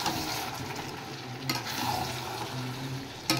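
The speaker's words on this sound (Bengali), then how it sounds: "এবার আমি আলুগুলো দিয়ে একবারে ভালো করে কষিয়ে নেব।" Potatoes are being sautéed and stirred in a pan for a mutton dish, giving a soft, steady sizzle with occasional scraping stirs and a sharper clack near the end, with no talk.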